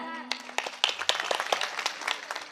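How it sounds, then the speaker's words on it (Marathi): Audience applause at a kalyache kirtan in Rohital, Gevrai taluka: a scattered burst of hand claps rises after a voice, with sharp irregular claps mixed with murmuring and talk throughout. "जोरदार टाळ्या एकदा यांच्याकरता झाल्या पाहिजेत."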